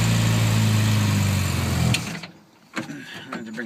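A 1967 Mini Moke running with a newly fitted engine, its small engine droning steadily close up before the sound cuts off abruptly, leaving a few faint knocks and rumbles.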